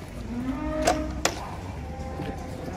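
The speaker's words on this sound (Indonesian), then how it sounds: "kedatangan sapi banteng lagi, sapi betina." A female banteng cow gives a single rising moo beside a truck, heard fairly close over low background noise with a sharp knock just after.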